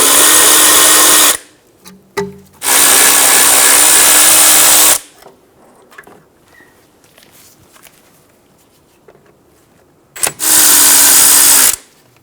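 Power tool removing two 10mm bracket bolts for the ABS wire on a 2010-2014 Subaru Outback rear suspension, three loud whirring bursts separated by quiet pauses with faint clicks and handling noise.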